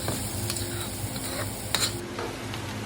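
Diced onion sautéing in oil in a wok or skillet over medium-high heat, giving a steady low sizzle with occasional stirring scrapes and a brief clink partway through.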